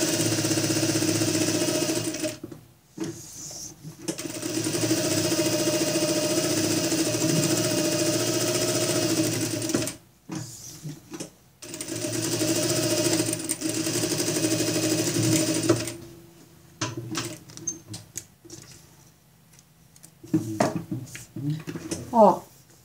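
A sewing machine stitches along the edge of a fabric vaccination card cover in several bursts of steady, fast mechanical whirring, with pauses in which someone talks.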